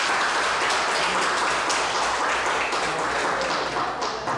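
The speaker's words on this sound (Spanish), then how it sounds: "Un aplauso para ellos que nos ayudaron." An audience gives a round of applause, dense continuous clapping from many hands that stays loud and close from start to finish, with no speech over it.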